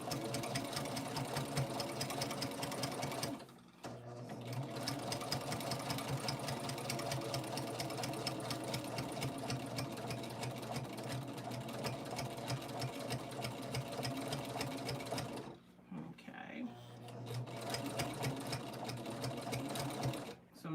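A sewing machine stitches binding onto a quilt with a near, continuous whirring and rapid needle clatter. It pauses briefly twice and resumes, with a voice talking over it.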